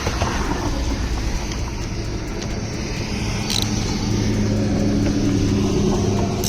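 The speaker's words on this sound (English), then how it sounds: "Starting to rain." Steady rain falls across an outdoor parking lot, a continuous broadband hiss with scattered drop ticks and low traffic-like rumble underneath, loud and close with no speech.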